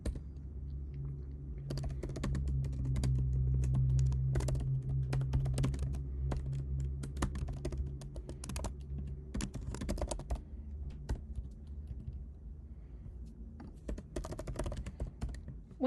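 Computer keyboard typing while C++ code is written, a steady run of close, crisp key clicks over a low background hum, with no speech.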